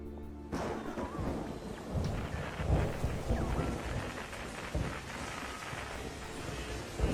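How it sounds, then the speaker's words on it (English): Rain falling in a Hollywood scene from the animated film Cats Don't Dance, steady loud downpour with rumbling thunder-like swells throughout, no voices. "A sad, cleansing rain begins to fall on Tinseltown as Tilly and the rest are licking their woun"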